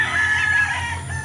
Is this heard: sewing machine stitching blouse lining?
no